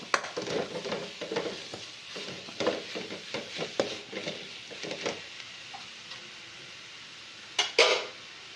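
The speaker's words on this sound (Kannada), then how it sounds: "ನಂತರ ಸ್ವಲ್ಪ ಕೊತ್ತಂಬರಿ ಸೊಪ್ಪು ಹಾಕಿ ಚೆನ್ನಾಗಿ ಮಿಕ್ಸ್ ಮಾಡಬೇಕು" Beetroot palya with fresh coriander leaves stirred in a hot pan: a steady run of scraping spatula strokes over a faint sizzle, easing off before a final pair of louder knocks against the pan.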